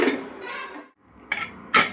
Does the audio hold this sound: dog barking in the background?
no